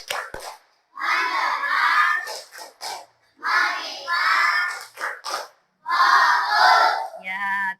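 Sixth-grade schoolchildren in an Islamic religious education class perform the tepuk fokus routine, chanting loudly together in several rhythmic bursts with short pauses between them, mixed with clapping, close and lively.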